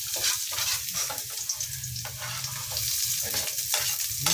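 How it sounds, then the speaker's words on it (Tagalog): Garlic and onion sautéing in a pan in a home kitchen, a steady close sizzle with occasional scraping stirs, no talking over it. "Gisa lang po natin siya ng mabuti."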